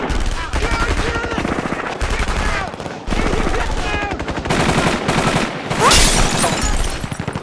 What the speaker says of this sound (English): a shootout erupts